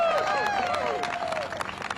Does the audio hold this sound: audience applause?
yes